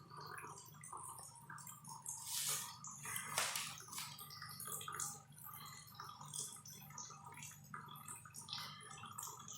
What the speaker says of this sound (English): this is the pipe inside the pumping machine